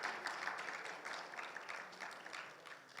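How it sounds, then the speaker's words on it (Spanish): A church congregation claps together in sustained, dense applause; the sound is steady and fairly faint, with no voices over it. "Denle un fuerte aplauso al Señor"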